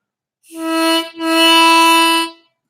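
Two sustained reedy notes on a diatonic harmonica, an opening fragment of Ode to Joy, played alone and close with a brief break between them and clean, bright overtones.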